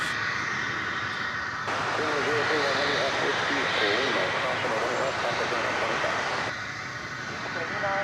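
A jet airliner arrives at DFW Airport, its engine roar rising and swelling over several seconds before easing off, with a person talking over parts of it.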